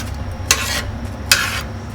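Jollof rice stirred in a pot, two distinct scraping strokes about a second apart over a low steady background hum.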